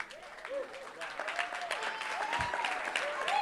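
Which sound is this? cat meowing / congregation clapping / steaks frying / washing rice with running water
congregation clapping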